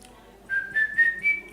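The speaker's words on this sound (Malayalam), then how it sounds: "ഈ ചൂളം വിളിക്കും ഇങ്ങനെ" A man whistles a short tune close by, a few clear notes rising in pitch one after another over a quiet background.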